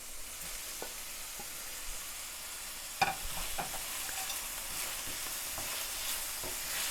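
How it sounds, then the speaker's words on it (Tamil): Tomatoes frying with garlic in a pan for kurma, a continuous close sizzle broken by clattering stirring strokes, loudest around the middle, with no one speaking. "இப்போ தக்காளி சேர்த்துக்கிடுவோம்."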